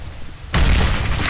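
An incendiary grenade goes off in a video game: a sudden loud, broad whoosh-boom that cuts in after a quiet half-second and roars on without fading.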